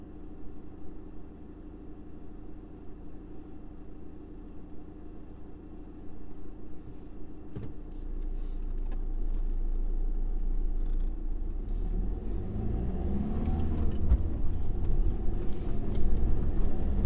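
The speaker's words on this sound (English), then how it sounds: "Let this car go in front." A car on a windy Guernsey road draws closer, its engine rumble swelling from a low murmur into a loud, close pass with broadband road and wind noise.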